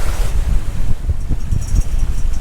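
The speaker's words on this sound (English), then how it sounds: "here we are in the bay, so the waves are really short, not too much distance between waves" Short, choppy waves slap and wash against a sailboat in a bay under strong wind, with heavy low rumbling wind buffeting close and loud throughout.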